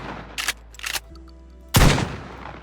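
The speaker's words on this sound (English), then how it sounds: "it is the snub nose shotgun, or the pistol grip shotgun" A snub nose pistol grip shotgun fires in DayZ, with two short mechanical clacks of handling followed by one loud, deep blast that decays over a fraction of a second.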